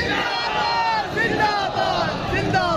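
Rally crowd at a March 23 street gathering chanting Khatm-e-Nubuwwat slogans, many voices shouting together in a loud, continuous, rising-and-falling chorus.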